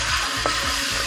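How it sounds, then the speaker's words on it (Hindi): Steady, close sizzling of chicken frying in a pan, a continuous crackle with faint stirring scrapes and no talking. "तकरीबन हम 5 मिनट के लिए इसको फ्राई करेंगे ताकि इसका कलर अच्छा सा आ जाए।"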